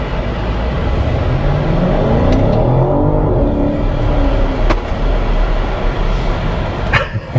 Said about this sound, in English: let's really quickly see how this can accelerate from stop